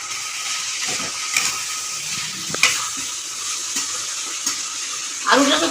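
Chili powder, cumin powder and ginger powder fry in a pan for a chhanar dalna, a soft sizzle under a few light stirring scrapes and clinks, ending with a louder burst of sizzling.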